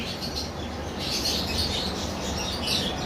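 Pet birds in a breeding pair's cage give soft, scattered high chirps over a steady background hiss, with no talking.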